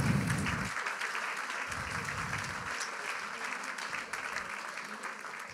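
Audience applause at a public talk welcoming a guest on a video call, steady moderate clapping throughout, interrupted by repeated short bursts of a man's speech over it.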